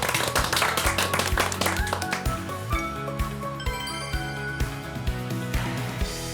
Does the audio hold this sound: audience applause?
yes